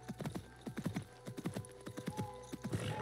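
Horse hooves clip-clopping in Assassin's Creed Mirage, a steady run of close, distinct hoofbeats with an occasional faint whinny, no talking over them.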